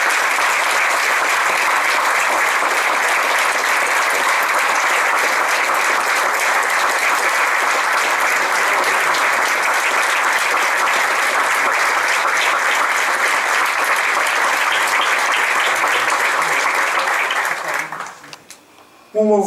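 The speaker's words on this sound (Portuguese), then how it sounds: "Peço uma grande salva de palmas para o Dr." Sustained audience applause at a municipal day ceremony in Esposende, Portugal, steady and dense from a large crowd for about seventeen seconds before tapering off abruptly near the end.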